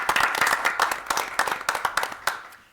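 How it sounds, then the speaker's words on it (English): A small school board meeting audience claps for a resigning staff member, a short burst of sparse, distinct hand claps that trails off after a few seconds. "Let's give her a round of applause."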